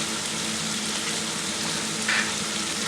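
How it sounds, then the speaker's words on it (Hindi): Beef pieces fry with spices in a pot, producing a dense, steady hiss of sizzling close up, with a brief brighter spatter near the end and no talking. "सारे मसालों के साथ गोश्त की अच्छी तरह भुनाई करूँगी"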